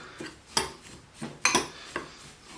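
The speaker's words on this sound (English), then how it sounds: "You just basically want to mix this up really well." Dried herbs de Provence, with dill, marjoram and oregano, are mixed in a bowl, giving four or five quick scraping, clinking strokes at a steady rhythm, near and fairly quiet, with no voices.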